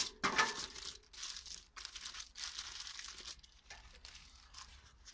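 The plastic bag of a Lixada folding wood pocket stove crinkles and rustles in close, uneven bursts, with a sharper crackle at the start.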